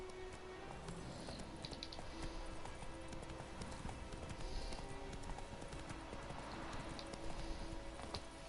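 Hooves of Roach, the horse in The Witcher video game, clip-clop in a steady running rhythm, close and continuous, with a faint snort or whinny and no talk.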